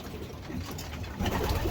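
Pigeons coo softly while eating oregano-treated feed, several short low calls close by amid rustling and pecking, slightly louder toward the end.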